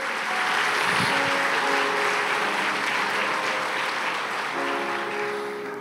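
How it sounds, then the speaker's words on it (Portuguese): A church congregation claps continuously at a Sunday worship service, a thick, even wash of applause with steady held tones running underneath. "Alguém pode aplaudir ao Senhor por essa verdade?"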